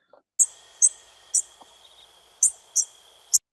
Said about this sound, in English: Okay, so you see this constant line here. That is crickets, and then this one here is crickets